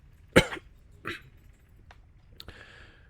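A few short, sharp coughs separated by pauses against a quiet background, the first one loudest.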